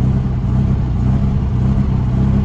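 Air-cooled engine of a 1974 VW Beetle that will not idle properly, held at a slightly raised rev, a steady, loud, close low rumble with a rough, throbbing texture.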